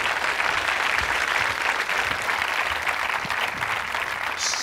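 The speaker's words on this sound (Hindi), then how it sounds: "तालियां जोरों से बजाइए आप" Sustained applause from an audience at a college quiz show, steady and dense throughout, fairly close and loud, with no voices over it.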